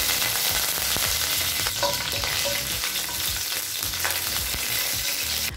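Cinnamon sticks, cloves, a bay leaf and curry leaves fry in hot oil for chana kurma, giving a steady close sizzle with scattered stirring scrapes and no talk.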